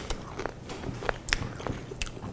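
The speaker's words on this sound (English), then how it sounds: "So now let me give it a taste." Crunchy bites into crispy homemade maple espresso bacon, a few sharp close crackles and chews, fairly quiet with no talking.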